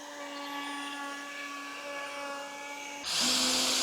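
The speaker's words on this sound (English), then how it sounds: "With my router and its bushing" A woodworking router with a guide bushing runs at a steady high whine while plunging to cut a dado, and the pitch rises to a harsher, louder roar as the bit bites into the wood.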